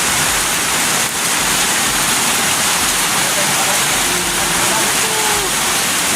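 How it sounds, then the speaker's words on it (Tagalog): Heavy rain pours in a dense, steady hiss, with faint voices murmuring now and then underneath. "Ngayon lang umulan."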